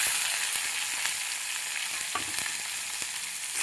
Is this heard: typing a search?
no